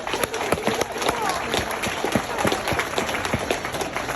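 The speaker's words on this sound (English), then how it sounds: "Put your hands together, a big round of applause." Applause from a county fair crowd at an FFA market hog championship drive, steady clapping spread through the whole stretch, with sharp percussive hits and scattered voices, fairly close and loud.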